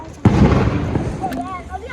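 A Diwali firecracker bursts with one sharp, loud bang near the start, followed by a short decaying rumble while voices talk and shout nearby.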